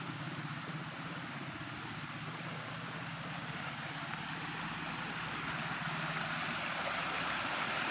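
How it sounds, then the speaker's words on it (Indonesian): Mountain stream water flowing steadily downhill outdoors in Cigugur, Cianjur, a continuous close rushing wash with no talk. "Ini airnya mengalir enak banget"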